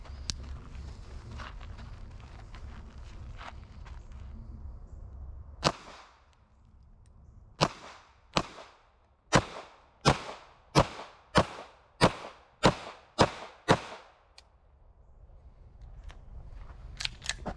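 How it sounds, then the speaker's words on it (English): A Staccato CS pistol fires about a dozen sharp shots, a slower few followed by a quick evenly spaced string, each crack loud and distinct over quiet outdoor background. "Just tell us your thoughts after you're done shooting this magazine."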